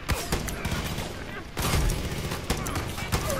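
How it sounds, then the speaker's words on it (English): Rapid gunfire rattles through a Far Cry 5 arcade map, with dense bursts of shots, a heavier volley midway and more scattered shots after, all loud and close. "I think I'm being shot from another direction that I'm not aware of."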